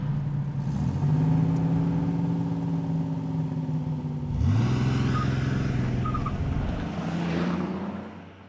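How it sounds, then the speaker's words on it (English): A car engine hums steadily, then a whoosh as it whizzes past around the midpoint, the engine tone dropping and fading off to one side as a panned sound effect. "When the car whizzes by, it comes from sort of the middle and then off to the left."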